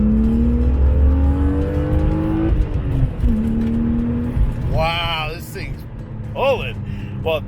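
Heard from inside the cabin, a BMW E36 M3 fitted with an Injen intake accelerates hard, its engine note climbing loud and steady with a shift partway through, then easing as voices speak over it.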